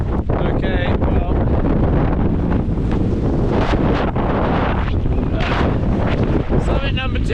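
Strong wind buffets the microphone on a Welsh mountain summit, a loud, continuous roaring rush with gusty surges, with brief bits of voice mixed in.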